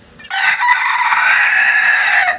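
A naked-neck chicken squawks angrily in one loud, sustained, harsh cry lasting about two seconds, close by and alone, with faint background noise before it starts.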